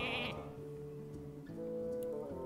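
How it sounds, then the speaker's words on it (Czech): A sheep bleats in the Hearthstone card game: one short, bright bleat at the start, followed by sustained layered game tones that carry on steadily to the end. "Ovečka určitě."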